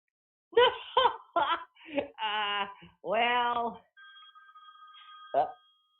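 A mobile phone ringtone sounds during a live talk-radio show, a steady electronic ring of sustained tones after a burst of laughter and chatter, then cut short by a brief voice.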